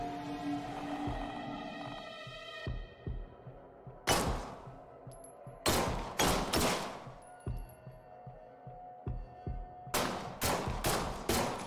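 Video game gunfire rings out in sharp, loud bursts: a few isolated shots, then rapid clusters of three to four blasts with short echoing tails, separated by quieter gaps with a lingering musical tone.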